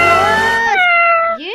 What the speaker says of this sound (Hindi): ये बिल्ली है, घोस्ट की कजन नहीं।